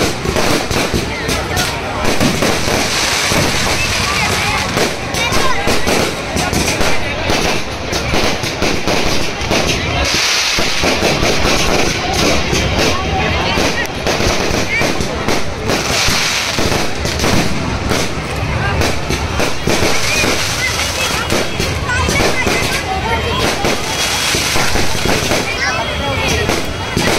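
Loud fireworks at a Dussehra fair before the Ravan effigy burning crackle and pop nonstop, a dense barrage of bangs and sizzling bursts that never lets up.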